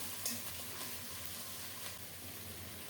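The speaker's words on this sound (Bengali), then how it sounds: "পেঁয়াজটাকে কিছুক্ষণ নেড়ে চেড়ে ভালো করে কষিয়ে নেব" A steady, quiet sizzle of onion paste frying in a pan, with occasional soft scraping as it is stirred.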